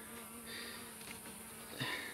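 Honey bees buzz faintly but steadily on a hive frame during beekeeping work, a soft, continuous hum with a small swell near the end.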